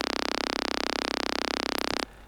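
A single-voice Serum synth bass note, shifted down an octave, sounds as one steady buzzing tone for about two seconds and then cuts off abruptly.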